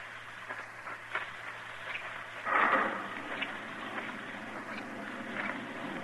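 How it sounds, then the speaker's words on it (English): Steady rain from a 1954 radio western, a faint, even hiss of falling water with a soft rumble swelling once midway, and no voices over it. "let's just don't stand here in the rain talking about it"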